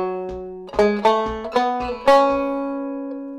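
Banjo picking a melody with syncopated, offbeat notes: a short phrase of bright plucked notes ringing on, each attack clear and close, played alone with no voice.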